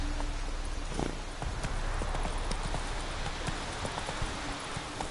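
Roach the horse's hooves clip-clop steadily along in The Witcher 3 Wild Hunt, a brisk close rhythm of hoofbeats over constant ambient wind and background noise.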